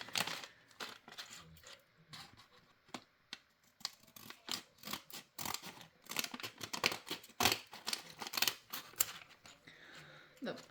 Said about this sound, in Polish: Oczywiście nożyczki biorę.